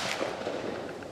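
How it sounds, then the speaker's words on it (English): A shotgun blast at an outdoor skeet shooting range, one loud broad crack that fills the brief moment with no voices. "So we're skeet shooting right now"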